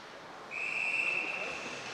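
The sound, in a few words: referee whistle blowing for offside in ice hockey game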